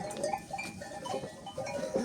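Lambs and sheep in a village barn bleat in overlapping calls, moderately near, over a steady murmur of flock noise with no voices.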